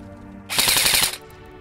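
Airsoft M4A1 CQB railed carbine with a suppressor and electric blowback firing one short full-auto burst of rapid mechanical clacks, loud and close, lasting about half a second.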